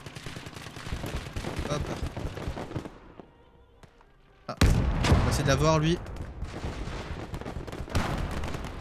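Gunfire in the WWII game Gates of Hell around Italian Fiat 3000 tanks, bursts of shots and explosive booms under someone talking, with a loud blast midway followed by whistling debris and continuing battle noise.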